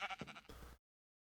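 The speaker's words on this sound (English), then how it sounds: "look at that sheep" A sheep in Minecraft gives one short, close bleat, clear and alone, that cuts off sharply.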